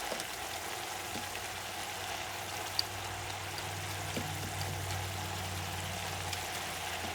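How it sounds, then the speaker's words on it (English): Water is poured into a pan of fideuà with shrimp in a thin, steady stream that trickles quietly and continuously over a low background hum. "I'm adding more water."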